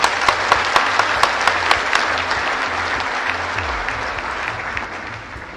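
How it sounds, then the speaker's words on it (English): An audience at a social business day event claps, loud and close. A dense wash of applause opens with sharp individual claps and then settles into a sustained, gradually fading roar, with no talk over it. "Let's give a big applause for Gwen."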